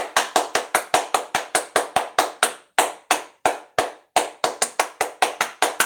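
Hand claps ring out as a crisp, close run of single claps in a steady rhythm, with a couple of brief gaps before the beat resumes and continues to the end.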